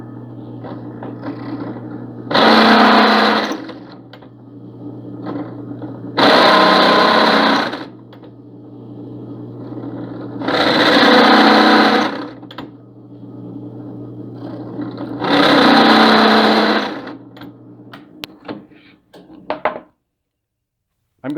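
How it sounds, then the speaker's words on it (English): A drill press whirs through metal with a 9/16-inch bit in four loud bursts of a few seconds each, separated by quieter pauses with a steady motor hum underneath. "Over at the drill press again."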